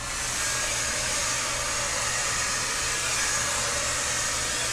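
A hair dryer blows steadily as a vent brush works through hair to knock out crinkles, a loud continuous airy roar with a low hum that holds for several seconds with no speech.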